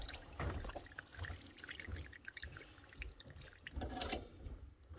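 Water dripping from a heating pipe during a micro-bore plumbing job: faint, irregular drops and a light trickle, quiet and close, with soft handling noises in the background.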